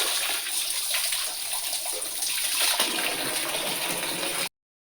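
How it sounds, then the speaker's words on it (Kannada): Water pours steadily from a tap in a home kitchen where dishes are washed, a constant close rushing splash that grows fuller partway through and then cuts off abruptly, with no voices. "ಹೀಗೆ ನೀರು ಬರ್ತಾ ಉಂಟು."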